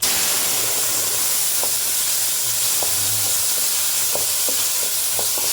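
Pork ribs sautéing in a little oil for sinigang, a loud, continuous sizzle and hiss close up, with occasional soft clicks and stirring scrapes throughout.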